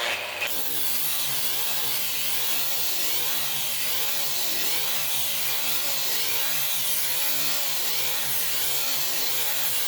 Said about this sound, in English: All I'm using is the big old grinder. I'm just going to lightly grind across this here